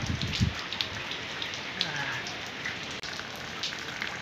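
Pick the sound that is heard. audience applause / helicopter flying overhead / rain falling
rain falling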